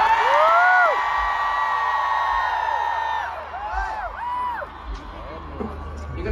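A large concert crowd at Letňany Airport, Prague screams and cheers loudly together, a sustained roar with rising shouts and whoops, fading slightly toward the end.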